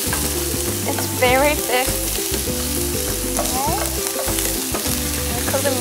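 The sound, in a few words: chicken and prawn stir-frying in a pan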